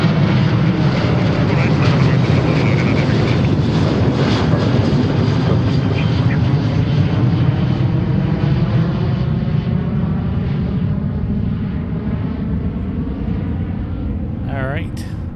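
Boeing 737-900 jet taking off, a loud, steady roar of engine noise that stays strong throughout and slowly eases toward the end, with no voices over it.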